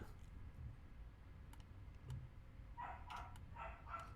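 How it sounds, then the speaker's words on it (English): A dog barks several times in quick succession near the end, somewhat distant and faint, over a quiet room during a Keyforge tabletop card game session. "the dog is being very disobedient"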